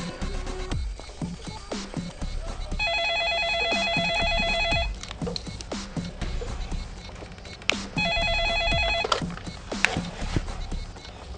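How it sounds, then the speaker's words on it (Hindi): A telephone rings during a call in a Hindi gangster film scene, giving two trilling ring bursts a few seconds apart over a busy background of thuds and clatter. "अभी लगाता हूँ इसके बाप को फोन।"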